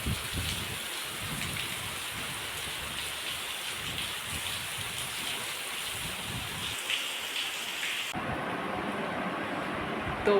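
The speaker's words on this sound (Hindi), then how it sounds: "हो रही है झमाझम बारिश" Heavy rain pours steadily in a dense, even hiss that goes on for about ten seconds, loud and close and continuous, with no voices.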